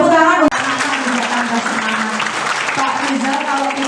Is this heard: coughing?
no